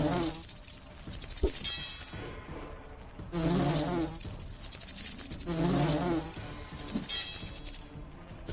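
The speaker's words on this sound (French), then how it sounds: "Là il y a un gros groupe de guêpes." A small swarm of three wasps buzzing in the fantasy role-playing game Lords of Xulima, a droning insect hum that swells and fades in waves over steady game background sound.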